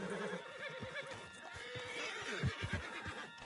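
John's horse in Red Dead Redemption 2 gives a long, shaky whinny, then snorts while hooves clip-clop nearby, all set against a light outdoor ambience.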